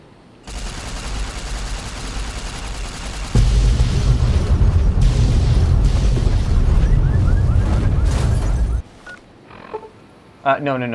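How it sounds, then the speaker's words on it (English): Loud, dense rumbling explosions and rapid gunfire-like crackle from Fallout: New Vegas roll on for several seconds, then cut off, followed by brief electronic bleeps. "Well, glad you like the explosions, Edie."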